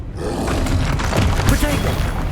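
A troll roars in the video game Hogwarts Legacy, a loud, growling bellow lasting about two seconds, mixed with crashing game effects.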